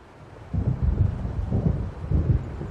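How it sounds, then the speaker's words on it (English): Low rumbling thunder and gusting wind of an approaching storm at a lake in the game Alan Wake, a faint hush that swells into a sustained heavy roar with rolling surges. "It seems there's a storm coming."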